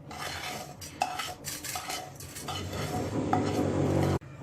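Roasted semolina scraped and scooped out of a metal pan into a bowl for rava laddoo, a close run of clinking spoon-on-pan scrapes and rustling grain lasting a few seconds, ending in a sharp knock, with no one talking.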